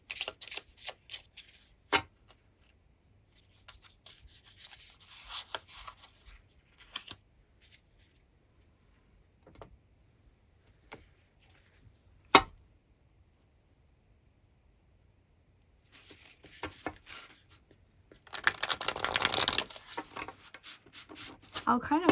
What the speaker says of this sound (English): we're just going to get all your cards out here and then we will flip